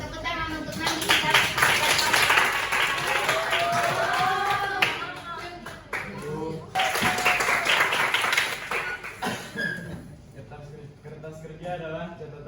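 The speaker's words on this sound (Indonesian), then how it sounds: "Yeah, tepuk tangan" Applause and clapping from an accounting class audience, mixed with loud talking and voices throughout, the clapping thinning out toward the end.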